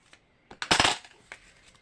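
Scissors cut through paper in a few short, crisp snips, one louder cluster of cuts in the middle with fainter snips before and after, close up in a quiet room.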